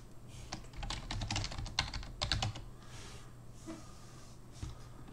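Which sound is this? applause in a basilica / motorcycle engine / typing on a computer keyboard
typing on a computer keyboard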